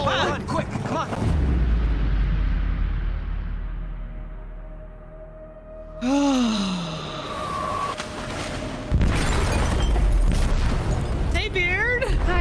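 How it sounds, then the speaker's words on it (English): Deep explosion booms from a detonation in a ship's hold in the game Detroit: Become Human, with a long low rumble that fades, then fresh blasts and sweeping metallic groans, and voices talking over it. "They detonated an explosive in the hold."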